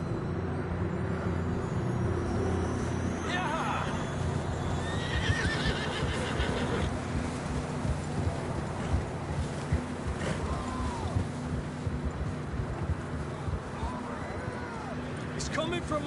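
Horses whinny and hooves clatter over a steady windy outdoor rumble, with shouting voices mixed in throughout, in the video game Red Dead Redemption 2.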